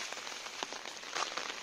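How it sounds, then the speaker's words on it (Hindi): Heavy rain near a sea beach hisses steadily on surfaces, with dense patter and a brief louder surge of drops, no voices. "बहुत जोर वर्षा भी हो।"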